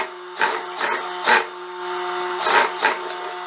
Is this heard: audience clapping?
no